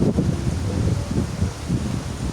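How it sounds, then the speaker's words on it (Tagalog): Strong wind with heavy rain roars steadily across the microphone, a constant low rumble with gusty swells and no voices. "Kusog kayo hangin."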